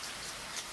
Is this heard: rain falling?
yes